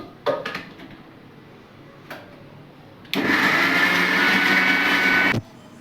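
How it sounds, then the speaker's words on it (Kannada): A mixer grinder grinds cardamom and clove in a loud, steady whir lasting about two seconds, then cuts off abruptly, preceded by a few sharp clicks and knocks of the jar and lid. "ಫಸ್ಟು ಇಷ್ಟು ಹಾಕ್ಕೊಂಡು ರುಬ್ಕೋತಾ ಇದ್ದೀನಿ."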